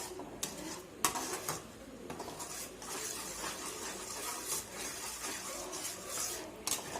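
Spoon scraping and clinking in a pan while a thick white sauce of milk and maida is stirred, with irregular metallic taps and a continuous mid-level rustle of cooking noise.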